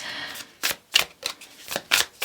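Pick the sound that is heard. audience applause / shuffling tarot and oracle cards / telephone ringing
shuffling tarot and oracle cards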